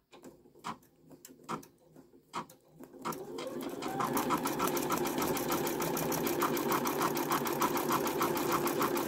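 Brother Skitch embroidery machine starts with a few scattered clicks, then settles into a fast, steady mechanical stitching rhythm while sewing letters, close and moderately quiet with no talk.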